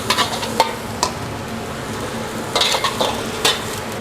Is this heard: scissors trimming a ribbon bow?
no